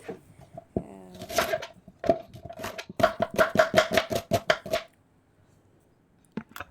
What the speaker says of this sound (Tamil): ரெண்டு ஆனியனையும் ஸ்லைஸ் ஸ்லைஸாக கட் பண்ணிக்கலாம் தென் நல்லா பொடி பொடியாக வெட்டி